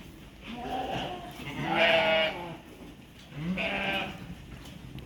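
Sheep bleat close by in two or three drawn-out, wavering calls, separated by brief pauses over a quiet farmyard background.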